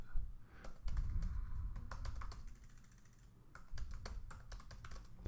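Fingers tap out a string of quick keystrokes on a computer keyboard, two bursts of close, soft clicking separated by a short pause.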